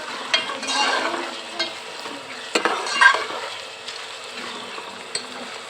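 Onions frying in a pan until golden, a steady soft sizzle with occasional scrapes and knocks of stirring, close and moderately quiet, with no talking.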